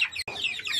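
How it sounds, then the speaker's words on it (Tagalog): Chickens cluck and squawk in a brief, high, chattering burst close by. "Mga manok."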